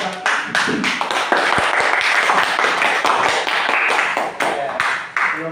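Classroom applause for a student group, a dense steady patter of many hands clapping at close range for several seconds, fading slightly at the end.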